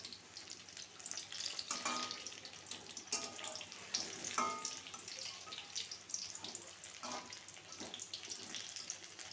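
Paneer pakoras frying in oil give a soft, close sizzle, with irregular bursts of bubbling and light clinks of a utensil now and then, fairly quiet throughout.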